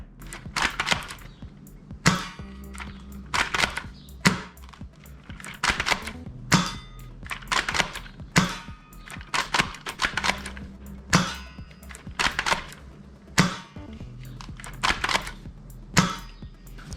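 A JY Swift Hawk gel blaster sniper rifle shoots repeatedly, each close, sharp snap followed by a short mechanical rattle as it is worked, spaced roughly every couple of seconds, with no talking.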